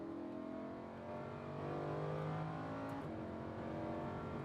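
A Lamborghini Huracan accelerates at full throttle on a Las Vegas race track, its engine note rising steadily and loud from inside the car, with no talk over it.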